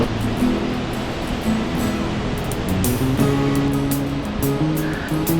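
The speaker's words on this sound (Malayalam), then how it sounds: "ഒരു ഷട്ടർ തുറന്ന് വെള്ളം പുറത്തേക്ക് ഒഴുകുന്ന കാഴ്ചയാണ് നമ്മളിപ്പോൾ കാണുന്നത്" Water gushes from an open shutter at Mattupetty Dam in Munnar, a broad continuous rushing roar with a few faint tonal hums underneath.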